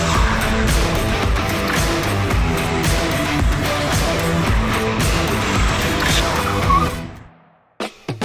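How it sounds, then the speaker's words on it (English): A Honda e electric car doing donuts with its traction control off, its tyres squealing loud and continuously for several seconds before cutting off abruptly, followed by a few short knocks. "So the Honda E can do quite impressive donuts"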